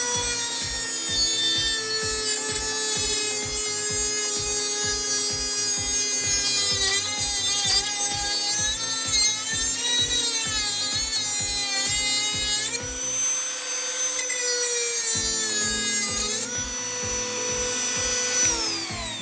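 A Milwaukee C12 RT-0 cordless straight rotary tool cuts at maximum speed, producing a loud, high, steady motor whine over a fast rhythmic grinding chatter. The grinding briefly drops out midway before resuming.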